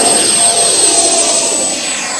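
Red Arrows electric ducted fan model jet taking off, a loud steady high-pitched whine and rushing roar held close throughout, easing slightly toward the end.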